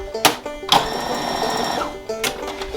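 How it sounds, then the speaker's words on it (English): A sewing machine stitches the ends of a waistband elastic together into a loop for pro wrestling trunks, a fast steady whir that runs for about a second between two short bursts, close and loud with no talk. "We're going to just sew it together there, so then we have a perfect loop."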